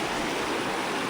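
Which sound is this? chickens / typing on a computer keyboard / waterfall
waterfall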